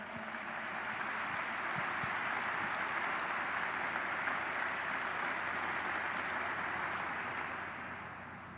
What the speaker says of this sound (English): I'd like to offer a round of applause for PCCC number 14.